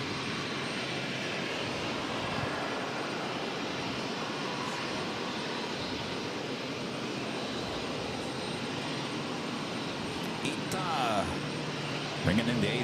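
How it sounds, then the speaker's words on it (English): A Delta Airlines Boeing 767-300ER heavy arriving from Edinburgh makes a continuous, moderate jet engine rumble with a slight swell near the end. "Delta Airlines 767-300ER coming from Edinburgh."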